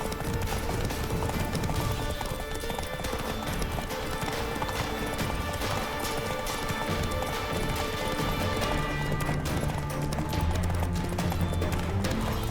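Roach, a horse in The Witcher 3, gallops with steady clip-clop hoofbeats under a dense layer of game music and ambience, loud throughout with no pause.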